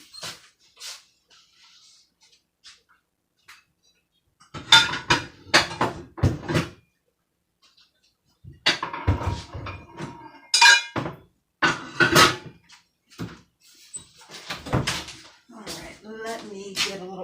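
Rummaging through a kitchen cupboard for a smaller cast iron pan, with bursts of heavy clanking and clinking cookware knocked together between quiet pauses, close and loud.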